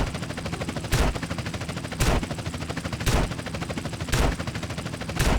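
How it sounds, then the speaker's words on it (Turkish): Rapid bursts of automatic gunfire repeat steadily, punctuated by louder heavy blasts about once a second, with a synthetic, game-like quality, from GTA San Andreas. "Ateş açıyorlar."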